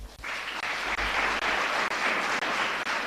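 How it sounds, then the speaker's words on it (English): A debate grand-final audience applauds in sustained, dense clapping that holds steady for the whole stretch, with no voices above it. "Round of applause continues"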